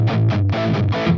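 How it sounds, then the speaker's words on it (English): A Les Paul electric guitar through an 808 drive pedal with heavy distortion plays a short run of thick, saturated chords, loud and close with brief gaps between strums, no voice. "So I turn it on, listen to how much distortion this is right now."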